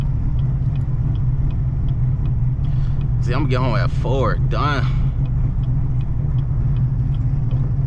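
The deep, steady rumble of a Chevrolet Camaro ZL1 fills the cabin while it drives through Chicago at night, loud and unbroken, with a brief stretch of talking partway through.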